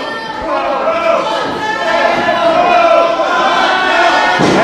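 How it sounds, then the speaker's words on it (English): A wrestling crowd at an Atomic Championship Wrestling show in Stevens voices disapproval, a loud sustained mass of booing and jeering voices filling the arena for several seconds. "And the crowd doesn't like it."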